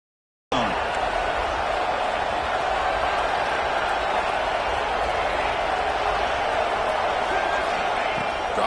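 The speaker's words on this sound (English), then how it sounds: "And the crowd coming to life here" Stadium crowd at a football game, a dense continuous roar of cheering and noise that swells steadily and stays loud throughout, with an announcer's voice blended in.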